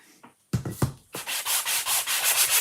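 Hand sanding of a wooden pumpkin surface for a chalk craft project: a few short scrapes, then a run of steady back-and-forth rubbing strokes, close and fairly loud, with no voice.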